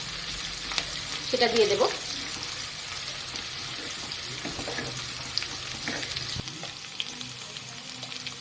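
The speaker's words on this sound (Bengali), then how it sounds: "পেঁয়াজ কুচিগুলোকে নাড়াচাড়া করে নিতে হবে, বেশ বাদামি রঙের ভাজা হয়ে এলে" Chopped onions frying until browned in a pan while a spatula stirs them, a steady sizzle with scraping strokes throughout; a voice speaks briefly near the start.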